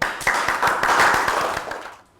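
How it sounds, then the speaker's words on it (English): Students in a primary-school class give a round of applause, a brisk burst of many hands clapping close by that fades out after about two seconds. "Round of applause."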